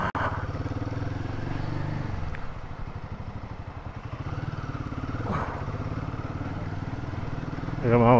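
A Royal Enfield Himalayan 450 motorcycle with an ignition problem rides along a road toward a service station, its engine thrumming steadily and close, with wind rush and brief clatter.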